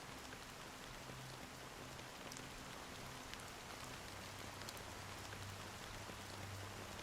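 Rain falls steadily in the video game Honkai: Star Rail, a soft, even hiss of drops with faint low rumbling underneath, continuous and quiet throughout.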